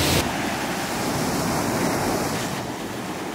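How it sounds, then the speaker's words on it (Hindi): Steady roar of surf and wind close by at Gwadar Beach, Pakistan, a continuous broadband rush with no voices. "पानी का शोर है और हवा है"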